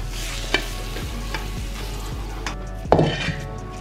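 A spoon stirs sugar into a hot laddoo mixture in a pan just off the gas, giving steady close scraping with a few sharp knocks against the pan and a low sizzle underneath, with no talking.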